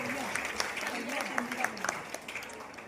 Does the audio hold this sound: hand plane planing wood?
no